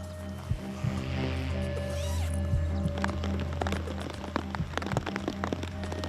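Steady rain falls on a reservoir during what may be the start of the monsoon season, a dense continuous patter with scattered sharper drops that grow more distinct toward the end.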